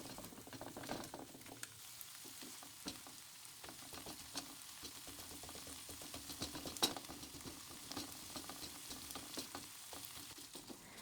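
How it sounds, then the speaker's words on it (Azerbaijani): Minced meat sizzles and crackles steadily in a hot pan, with scraping stirs now and then, fairly quiet and close. "tavaya 500 qram qiyməni əlavə edib 5-6 dəqiqə qovururuq"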